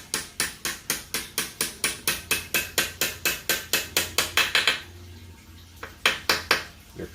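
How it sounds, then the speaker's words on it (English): A sledgehammer taps a 4L60E transmission part into place with a steady run of about twenty sharp metallic strikes, evenly spaced and close. The blows pause briefly, then a few more follow. "this one doesn't want to slide down, so you get your sledgehammer"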